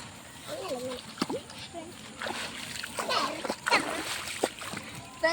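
Water splashes repeatedly as feet move through shallow pond water, with children's voices chattering nearby.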